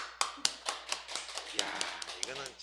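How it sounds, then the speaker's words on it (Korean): A church congregation claps its hands in a steady, fairly quick rhythm of distinct sharp claps, with a voice speaking alongside. "네, 박수."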